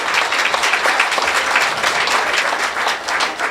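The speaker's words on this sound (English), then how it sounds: "Go ahead and clap for that." Audience at a high school athletic hall of fame induction ceremony breaking into sustained, loud applause, a dense crowd of clapping hands with no speech over it.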